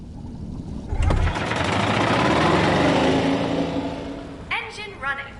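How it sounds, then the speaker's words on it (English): Engine of a vehicle in the video game I Expect You To Die starts with a sharp thump and settles into a loud, steady running roar, with faint voices and clattering near the end. "Engine running."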